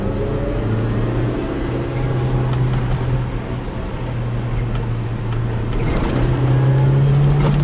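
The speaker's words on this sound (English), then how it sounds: "Let's accelerate with second gear." Suzuki Jimny 1.3 accelerating in second gear through city streets late at night, heard from inside the cabin as a steady, fairly loud engine drone whose pitch rises slightly toward the end, with no talking.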